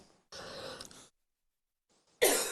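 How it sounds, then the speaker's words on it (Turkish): A person coughs twice, the first a short rough burst, then a pause before a second sharper cough. "İstersen benim mikrofonumu kısla ben rahat öksüreyim."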